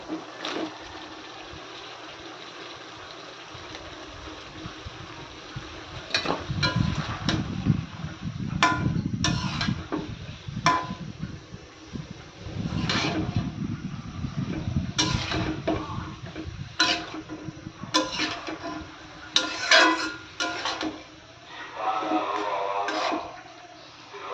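Taro stolons being tipped into a cooking pot of shrimp and spices, with scattered clinks and knocks of utensils against the pot over a soft sizzling, bursts of stirring and rustling coming and going close by.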